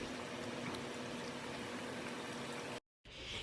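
Garlic pickle with vinegar simmering in a pan, a steady, faint bubbling hiss that runs continuously, briefly cut to silence near the end before resuming.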